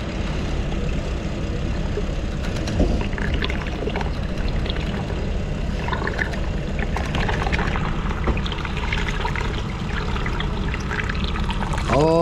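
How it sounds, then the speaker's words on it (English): Continuous liquid drill primer pouring and running down a slope at a well site, a steady loud wash of flowing liquid with some machinery hum beneath, lasting throughout. "Oh, that primer running down the hill."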